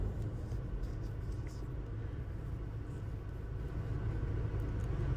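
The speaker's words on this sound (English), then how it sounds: "Get that Forager around to the header trailer." A forage harvester drives around to its header trailer on a farm during barley harvest, its engine a steady, loud, low rumble throughout with no voices.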